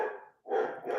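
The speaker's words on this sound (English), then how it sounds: "the dog barking is sounded a little bit distracting for me because it is" A dog barks at close range in two bursts split by a short pause, loud against a quiet room.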